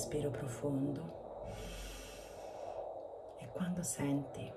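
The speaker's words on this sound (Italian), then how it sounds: "Fai un respiro profondo" A deep breath drawn during a guided meditation session, a soft, airy inhale and exhale in the middle, set between brief breathy vocal sounds.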